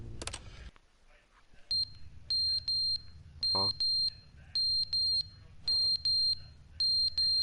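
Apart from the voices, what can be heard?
fire alarm beeping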